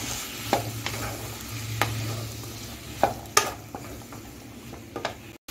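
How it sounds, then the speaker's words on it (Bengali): Pineapple frying in ghee in a pan makes a soft, steady sizzle punctuated by a few sharp spatula scrapes and clacks against the pan, fairly quiet overall with no speech. "এখন আমি আনারসটাকে 5 মিনিট ভেজে নেব ঘিয়ের মধ্যে।"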